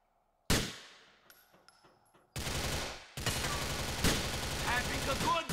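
Gunfire in the video game GTA IV, one loud shot and its decaying echo, then sustained rapid bursts of automatic fire and clanging impacts close up.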